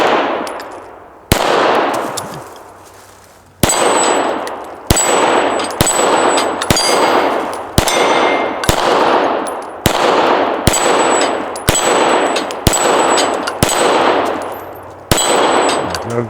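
A handgun fires hollow point rounds in about a dozen sharp, loud shots. Each report is spaced a second or so apart and followed by a metallic ring.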